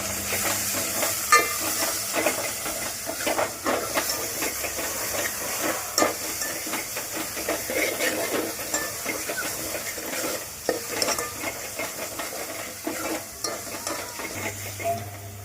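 Homemade masala frying in a pan for a spicy mutton curry, a steady loud sizzle and hiss with repeated scraping strokes of stirring throughout, no voices.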